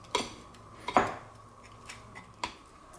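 A knife cuts through a crispy cheese quesadilla on a plate, making three short, sharp scrapes and clicks against the plate, spaced out over quiet moments, with no voices.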